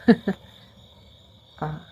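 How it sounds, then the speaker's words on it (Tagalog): A thin, steady cricket trill hums faintly through the quiet night, broken by a few short, louder knocks. "ang maririnig mo lang kuliglig"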